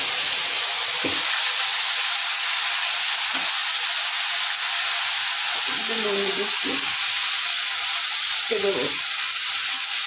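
Green chili paste hitting hot oil in a pan after a nigella seed tempering, for a curry of taro stolons, giving a steady frying sizzle with a few louder bursts of spitting and stirring under brief speech.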